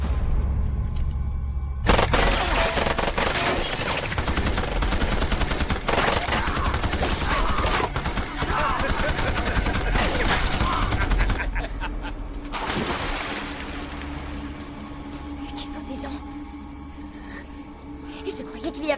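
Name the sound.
gunfire in an action film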